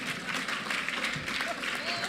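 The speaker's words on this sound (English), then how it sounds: "So, of course, you have to clap." Audience clapping at an awards gala dinner, a dense, continuous wash of applause from a large room with crowd murmur and a voice mixed underneath.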